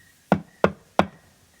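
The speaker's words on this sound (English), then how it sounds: "He knocked on the front door." Three evenly spaced knocks land on the front door of a house, each one crisp and close with a short decay, against a quiet background.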